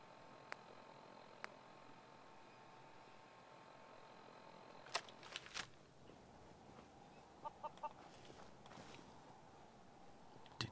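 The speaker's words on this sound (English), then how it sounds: "Rad chicken." Rad chicken clucking in the video game Fallout 4, a few short faint clucks and clicks scattered over quiet game ambience, no speech.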